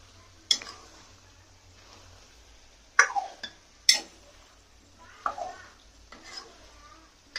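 Chicken fry being stirred in a pan, with a few sharp scrapes and clinks of a spoon against the metal spread out over a quiet background, close and moderately loud.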